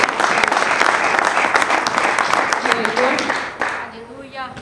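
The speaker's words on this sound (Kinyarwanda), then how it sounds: "komera Imana amashyi menshi cyane." A church congregation claps hard in a worship service, a thick wash of applause that thins and fades toward the close as a voice begins to speak over it.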